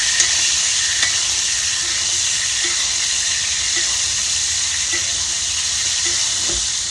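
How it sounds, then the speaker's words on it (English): Hanger steak basted with butter in a tilted cast-iron skillet: a constant loud sizzle with occasional soft taps and spoon scrapes, heard close and without talk. "I'm just going to tilt my skillet and do some basting."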